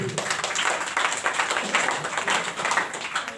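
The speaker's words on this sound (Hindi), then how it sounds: "ताली बजाएंगे परमेश्वर के लिए" A church congregation at a Hindi-language prayer service claps together in praise of God, a busy, fairly loud patter of many hands with a loose rhythmic pulse throughout.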